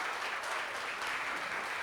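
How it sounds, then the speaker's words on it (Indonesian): Audience clapping at a live on-stage talk event, steady dense applause filling the room throughout, moderately loud with no voices on top. "Boleh kita beri tepuk tangan dulu?"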